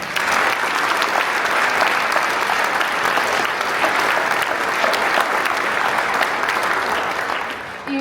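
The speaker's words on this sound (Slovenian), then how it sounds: "En močan aplavz tudi za flavtistko Loti Krošelj." A full hall of listeners at a holiday wind-band concert claps for a flautist, a thick, even wash of applause holding steady before easing off near the end.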